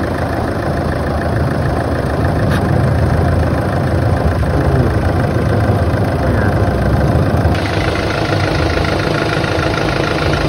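A Hyundai Accent CRDi diesel engine idles steadily with a close, loud, continuous low rumble and rattle, heard alone with no talk, while its radiator fan is not spinning.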